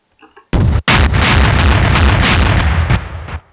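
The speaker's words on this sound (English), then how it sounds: "Okay, blast cannon. Which is really cool, rocket launcher." A rocket launcher fires in the video game Garry's Mod, a loud sudden blast that booms and rumbles on for a few seconds before fading, after a couple of quiet clicks.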